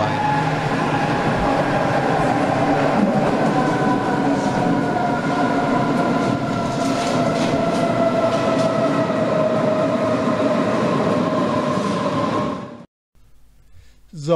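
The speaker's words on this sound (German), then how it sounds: "da fährt jetzt meine S-Bahn nach Bad Homburg rein." An S-Bahn commuter train bound for Bad Homburg pulls into an underground station, a loud steady rumble with whining tones that runs on for about twelve seconds before stopping abruptly.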